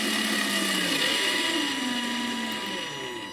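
A small 6-volt electric motor in a kids' ride-on car runs at full power through a proportional accelerator, a steady high whine with gliding tones that winds down slightly near the end, loud and close.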